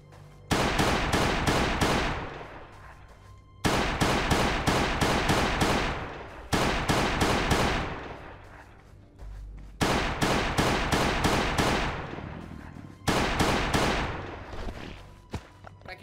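Rapid pistol fire in the survival video game Last Day On Earth, loud clattering bursts of quick shots repeated in five long volleys separated by short gaps, with no voices.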